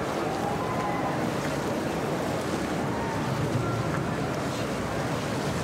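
Strong wind gusts buffet the microphone at an outdoor Red Bull cliff diving event in Boston Harbor, a constant loud rushing roar mixed with water and surf noise, with no speech.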